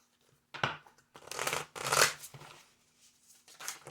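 Tarot cards are shuffled by hand in several quick riffling bursts with short pauses between them, close and fairly quiet, with no talking.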